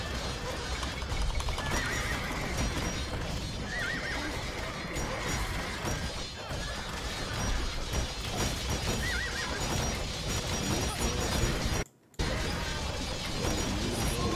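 Horses in Age of Empires 2: The Mountain Royals neigh and whinny repeatedly over a steady, loud clip-clop of hooves and busy game ambience, with a brief dropout near the end.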